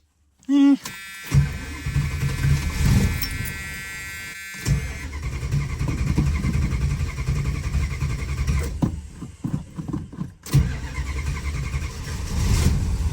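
A carbureted car engine fitted with a Thermoquad carburetor cranks over, catches and fires up, then runs with a steady idle rumble, the whine of the starter giving way to the engine, with brief gaps and some nearby voices.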